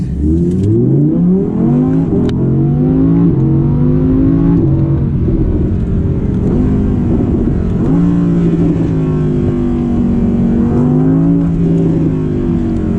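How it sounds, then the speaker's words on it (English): An Audi R8 accelerates hard from a standstill through several gears, its exhaust crackling and popping with backfires between the rising engine pulls. "And you get all those backfires, all those crackles on the exhaust."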